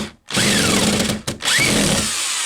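A power drill drives screws into heavy boards fixed across wall studs, with two loud sustained whirring bursts split by a brief pause, the motor pitch rising as each screw bites into the wood.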